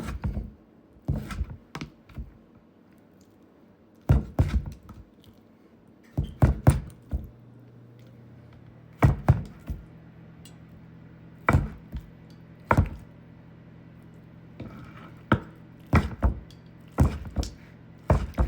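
A knife chops through a slab of crispy rice for sushi on a cutting board, giving sharp, close knocks in uneven clusters with pauses between, and a faint hum underneath.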